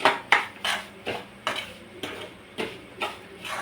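Grated coconut and semolina roast in a pan while a utensil stirs and scrapes in a steady rhythm of about eight strokes, each a close, bright scrape against the metal, with no voices.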